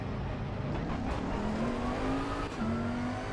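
Bentley GT3 race car engine in Assetto Corsa Competizione on Xbox Series S/X, a loud sustained drone rising in pitch as the car accelerates through the gears, with no talk.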